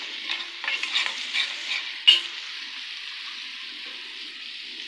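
Garlic is stirred in a frying pan after vinegar and water have been poured in, giving a steady close sizzle with scraping stirs early on and a sharp clink partway through. Afterwards the hiss settles to an even fizz.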